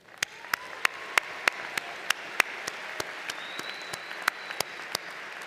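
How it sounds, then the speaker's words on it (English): At a college graduation ceremony, sparse distant applause is punctuated by a series of sharp, evenly spaced loud claps, with faint tonal sounds in the background. "let's pause and give yourselves and each other a well-deserved round of applause"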